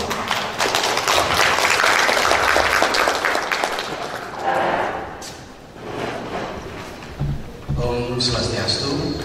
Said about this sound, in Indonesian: Mohon beri aplaus.